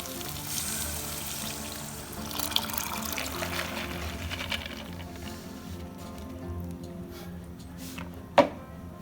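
Lentil soaking liquid pours into a pot of Indian spiced vegetarian dahl, a soft continuous splashing and trickle that fades, ending with a sharp clink of a utensil against the pot.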